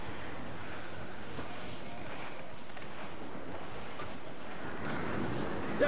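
Steady wind and rolling ocean waves at sea while sailing a ship in Assassin's Creed IV Black Flag, a continuous broadband rush with no speech, swelling slightly louder near the end.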